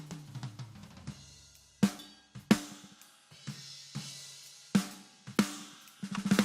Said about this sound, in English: That sounds like a snare, right?